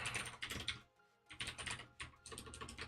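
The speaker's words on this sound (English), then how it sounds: "I don't know why I keep typing space." Rapid keystrokes on a computer keyboard, close and clear, in two bursts with a short pause near the middle while someone works on code.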